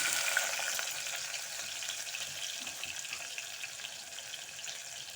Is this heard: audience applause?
no